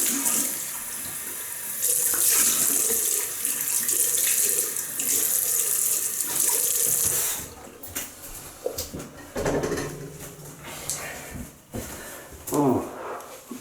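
Running tap water splashes steadily into a sink while someone rinses their face after shaving, loud and continuous for about seven seconds, then broken into intermittent splashes and drips with brief vocal sounds.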